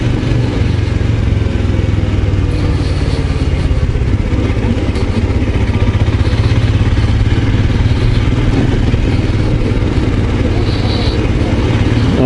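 A Royal Enfield Scram 411 motorcycle, still in its break-in period, being ridden, a steady close engine drone with wind rumble and clattering texture throughout, no voices clearly present.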